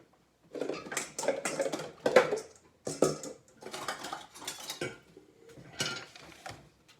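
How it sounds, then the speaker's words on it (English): Cake topping being spread with an offset spatula, a series of soft scraping and tapping strokes in short bursts, close but quiet, with brief pauses between passes. "I'm going to distribute this with a offset spatula"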